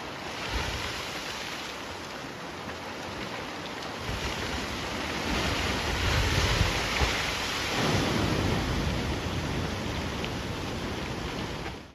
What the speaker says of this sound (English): Security camera footage captures a house collapsing under the force of a powerful storm.